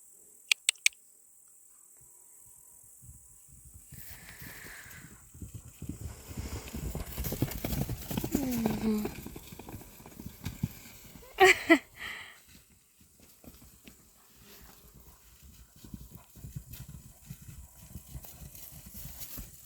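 Horses' hooves clop and thud irregularly on the ground, building to a busy flurry midway, with crickets chirping softly throughout and a few sharp knocks.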